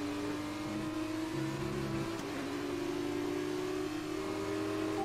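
F2 race car engines in the F1 2019 game, a loud continuous high whine that shifts pitch as the cars rev and change gear, steady and close throughout with no talk.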